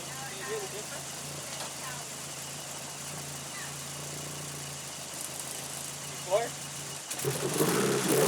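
A restored Mitsubishi Galant VR-4 idles steadily with a low, even engine hum that runs throughout, and people talk faintly over it before a louder burst near the end.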